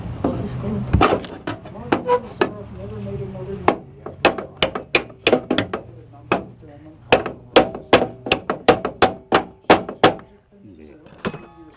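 Sharp metallic hammer blows drive a new hinge pin into a car door hinge, a long series of close, loud strikes in uneven rhythm, with talk heard early on.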